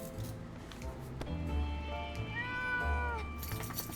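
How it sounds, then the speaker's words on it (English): A game cat meows and yowls from inside a trader's bag in 60 Seconds! Reatomized, a few drawn-out rising cries over a low background hum, faint but distinct. "Did I just hear a cat?"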